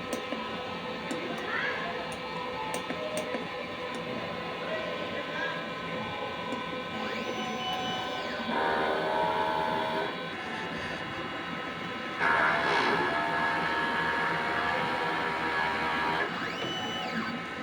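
A DTF printer runs at moderate level, its steady mechanical hum and whirring carriage sweeps rising and falling with faint ticks, quieter passages alternating with louder motor runs.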